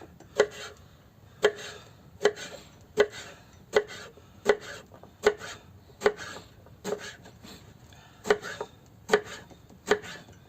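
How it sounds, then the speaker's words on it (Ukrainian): Kitchen knife chopping eggplant into rough pieces on a board, about a dozen sharp, evenly spaced cuts in a steady rhythm, close and clear, with no talking. "Ріжемо баклажанчик для подушки під парчик"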